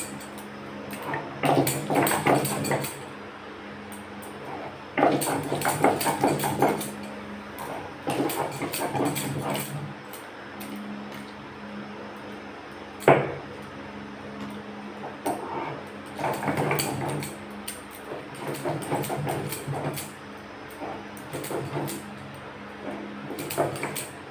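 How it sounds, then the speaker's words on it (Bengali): Ginger and garlic ground on a stone shil-nora, heard as bursts of scraping, rubbing strokes in rhythmic spells with short pauses, fairly close and alone without talk. "এখানে যে আদা রসুনটা আছে ওটা আমি শিলনোড়াতে বেটে নিই"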